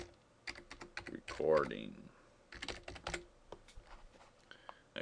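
Quick bursts of typing on a computer keyboard while entering a title for a sound recording, with clusters of light key taps separated by short pauses. A voice speaks briefly partway through.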